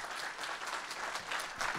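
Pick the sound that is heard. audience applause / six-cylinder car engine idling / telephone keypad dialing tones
audience applause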